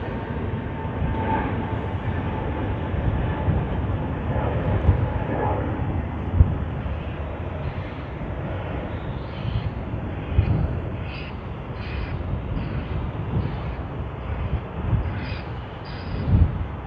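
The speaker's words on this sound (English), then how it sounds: "Boeing 787-9 Dreamliner has lined up on runway 34L. We should be able to see it take off shortly." Xiamen Air Boeing 787-9 Dreamliner taking off from runway 34L at Sydney Airport: a loud, deep, rumbling engine roar that holds steady across the whole stretch, with muffled highs and occasional small bumps in level.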